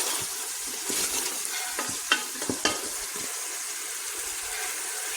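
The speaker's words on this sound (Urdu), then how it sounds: "گرین چلیز جو ہے وہ ہم ایڈ کریں گے، اور تھوڑا سا مسالہ جو ہے اس کو بھون لیں گے" Masala with green chilies frying for chicken curry gives a steady sizzle, with scraping stirs and a few sharp clacks of a utensil against the pot, close up and without talk.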